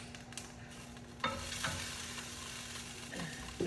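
Spinach and garlic stir-fry in a little oil in a pan, a soft continuous sizzle broken by a few stirring scrapes and clatters, close and fairly quiet, with no voices.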